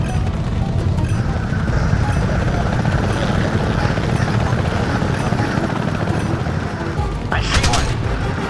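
An Apache helicopter in the PS3 game Apache Air Assault drones with a steady, loud rotor and engine rumble throughout, with a brief crashing burst near the end.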